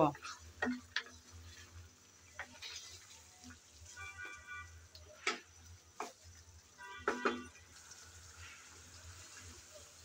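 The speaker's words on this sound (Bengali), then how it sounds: "আমি নেড়ে চেড়ে ভালো করে একটু কষিয়ে নেব।" Chicken for a yogurt chicken curry is stirred and fried in a pan, with a soft sizzle, scraping strokes and occasional clinks of the spatula against the pan, close by and at moderate loudness.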